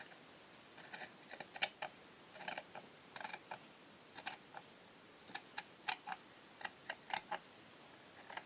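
Scissors cutting paper for a scrapbooking photo album, a close series of crisp snips and rustles in irregular bursts, quiet and alone without speech.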